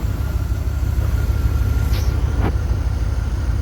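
A 2002 Dodge Ram 1500 SLT pickup engine idles steadily with a fresh 136-amp alternator fitted, a constant low rumble close by and a couple of faint higher ticks over the top.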